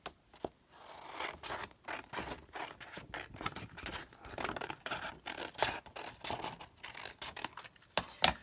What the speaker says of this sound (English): Let's cut this down. So yeah, let's cut it about here.